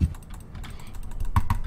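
Quick keyboard and mouse clicks come from someone playing the horror game Eyes The Horror Game, in an irregular run of soft taps that is fairly close and has no speech over it.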